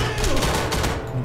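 Rapid automatic gunfire from a weapon in the shooter game Enemy Front, a dense continuous burst of shots, loud and close throughout.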